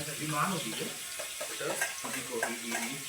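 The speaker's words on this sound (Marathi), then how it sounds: "अशा प्रकारे आमच्या कांदा पडू द्या. फोडणीला सुरुवात झाली अशा प्रकारे." Onions sizzle in hot oil with scraping stirring sounds, fairly close and moderately quiet, with faint talk in the background.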